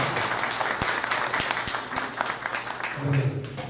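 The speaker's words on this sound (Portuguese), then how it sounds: "uma salva de palmas ao Sindivisco" A crowd at a 2018 Sergipe governor candidates' debate claps together in a dense, steady patter of applause, with a few sharper individual claps and some voices mixed in.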